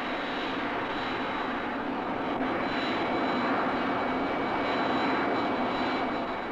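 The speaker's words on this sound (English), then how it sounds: "the first successful flight of the QF-86H occurred at the Naval Weapons Center" A QF-86H remotely piloted jet aircraft in flight over the Naval Weapons Center at China Lake, giving off a loud, steady jet engine roar that stays even throughout, with no voices.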